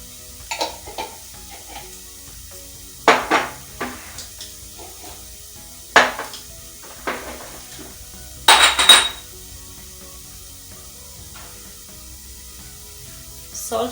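A utensil stirs food in a pot while cooking, giving scattered scraping and clinking strokes in short bursts over a faint background sizzle.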